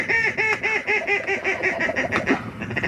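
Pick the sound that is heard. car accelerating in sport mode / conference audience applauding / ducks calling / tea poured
ducks calling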